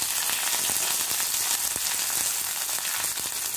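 Fresh curry leaves hit hot oil with mustard seeds and a pinch of asafoetida, setting off a loud, steady, close-up sizzle with scattered crackles and pops throughout.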